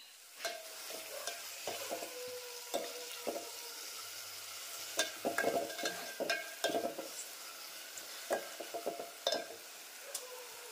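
Garlic, chili, ginger, tomato, onion and peas frying in ghee with cumin in a pan, a continuous close sizzle broken by repeated scrapes and clinks of a spatula stirring against the metal.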